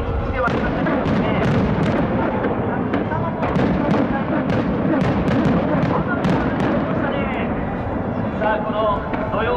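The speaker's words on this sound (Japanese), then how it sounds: "花火が今上がっております" Fireworks pop and crackle in a rapid, continuous barrage of bursts, dense and loud throughout, at the Suzuka Circuit motorsport fan appreciation day.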